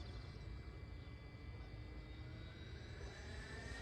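A radio-controlled sport jet, an E-flite Viper or Freewing Avanti, flies overhead at about two-thirds throttle. Its steady ducted-fan roar holds throughout with a faint whine on top, fairly loud and unbroken, with no talk.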